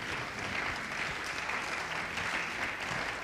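Church congregation applauding steadily, a dense continuous patter of clapping from many hands, fairly even in level throughout.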